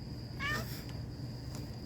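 A house cat meows once, a short rising-and-falling call at close range, over a quiet indoor room during a gentle floor exercise session.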